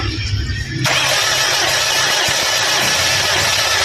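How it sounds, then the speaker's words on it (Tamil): A Bajaj Sport motorcycle engine cranks on the electric self-starter without catching, a loud continuous whirring drone that kicks in abruptly and runs steadily to the end. "ஓகே போனா என்ஜின் பாத்தீங்கன்னா ஸ்டார்ட் ஆகிற மாதிரி போகும், ஆனா வண்டி ஸ்டார்ட் ஆகாது"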